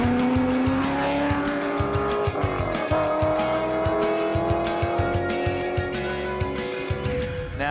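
A race car launches from a standing start on a half-mile blast at the Silver State Classic, geared tall for top speed. The engine roars loud and close, its pitch climbing steadily through the gears with a brief shift dip.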